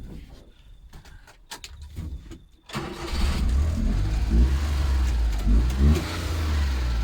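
A small Suzuki kei truck engine catches and then runs steadily at raised revs with a buzzy, rattling, sewing-machine-like drone, close by and continuous.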